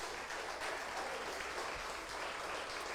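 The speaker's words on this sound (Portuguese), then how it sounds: "Você pode aplaudir Jesus?" A church congregation claps together during a sermon, a broad, continuous wash of hand claps from many people that holds steady and fairly distant throughout with no speech over it.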